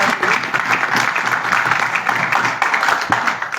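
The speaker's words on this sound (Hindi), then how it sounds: "मैं चाहूंगा उनके लिए एक बार जोरदार जबरदस्त ताली" An audience at a motivational session in Agra breaks into loud, enthusiastic applause, a thick continuous roar of many hands clapping close by with no one speaking over it.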